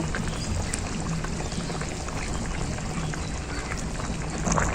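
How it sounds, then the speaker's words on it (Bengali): Fried fish pieces go into a boiling fish curry with potatoes, and a loud, continuous bubbling and splashing fills the pot at close range. "ঝোল খুব ভালোভাবে ফুটে গেছে আলুগুলো খুব ভালোভাবে সেদ্ধ হয়ে গেছে মাছ ভাজাগুলো দিয়ে দেব"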